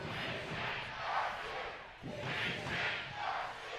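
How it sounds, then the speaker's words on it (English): Soccer match crowd roaring and cheering in a stadium, a sustained, swelling wash of many voices that rises and surges in waves, heard from a distance with no clear individual voices. "the crowd grows more and more intense with every ticking second"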